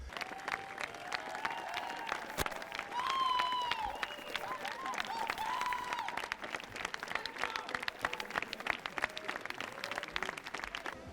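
A crowd at a Cannes film screening gives a standing ovation, with dense, sustained applause continuing without pause, heard under a faint, murmuring voice.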